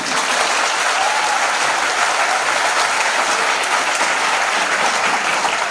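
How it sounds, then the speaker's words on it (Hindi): An audience at a national seminar in India breaks into sustained applause, a dense and steady wash of clapping from many hands, loud and continuous throughout. "कमलापति त्रिपाठी जी ने कहा, अरे जिसकी तालियां नहीं बज रही है, मैं समझ रहा हूं कि वो जो है इस डिबेट में पार्टिसिपेट नहीं कर रहे हैं।"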